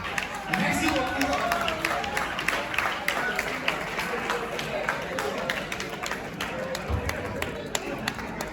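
Audience applause at a French-language marketing talk, a sustained patter of many hands clapping from a crowd, steady and fairly loud for several seconds with voices mixed in.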